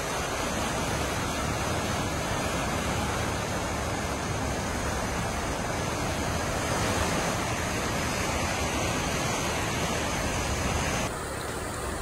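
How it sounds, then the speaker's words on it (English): Floodwater overflowing a creek rushes in a dense, steady roar like a waterfall, loud and continuous throughout with no voices, the wash shifting abruptly near the end. "It's overflowing the creek and coming in."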